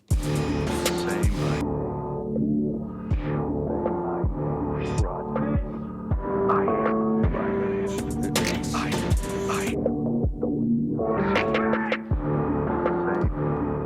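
A synth track run through an SP-404 sampler's resonant filter with drive, the tone sweeping and growling over repeated punchy bass hits, with no talking.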